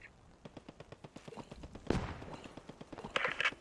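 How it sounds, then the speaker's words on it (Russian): Gunfire in the Post Scriptum World War II shooter game, a steady rhythmic string of distant rifle and machine-gun shots with one louder nearby burst midway, under faint radio-like chatter. "где-то слышал стрельбу"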